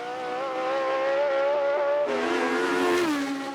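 Brabham race car on a timed shootout run at the Festival of Speed, engine droning loudly and steadily near then shifting up in pitch with a gear change, passing close.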